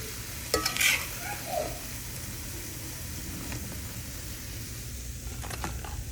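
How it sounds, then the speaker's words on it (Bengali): Food sizzles steadily in hot oil in a pan, a soft continuous frying hiss with a few sharp utensil clinks and scrapes early on, then fainter stirring sounds. "আর কতটা ভাজতে হবে এখন মনে হচ্ছে ভাজা হয়ে গেছে"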